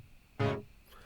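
Single dry synth note played without OTT compression in a funk beat: one short, bright, buzzy tone lasting about a quarter second, alone, followed by a faint fading tail.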